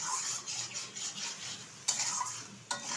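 Spice paste and taro are stirred in a pan for a pangas fish curry, giving soft scraping stirs over a low sizzle, with two sharp clinks of the spoon against the pan. Close and fairly quiet, with no talking.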